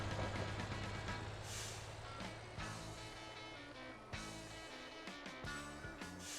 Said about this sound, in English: For some reason, this electric truck's not driving through the field very, very well.